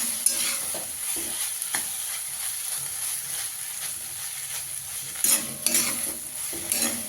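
Maggi noodles fry and are stirred in a hot pan, giving a steady loud sizzle broken by the scrape and clink of a utensil against the pan, with a few sharper stirring strokes near the end.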